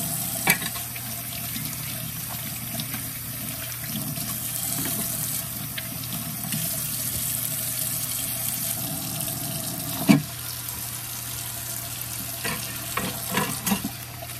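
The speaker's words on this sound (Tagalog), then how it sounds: "Ngayon naman hugasan natin mabuti yung yung mga dahon." Leafy pechay greens are rinsed under a running kitchen tap, a steady splash of water in a sink with occasional clunks and handling noises, no talking.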